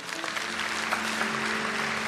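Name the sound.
applause in church for Jesus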